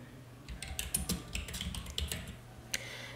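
Fingers typing on a computer keyboard to enter text, a quick irregular run of light close clicks and taps, heard alone without talk.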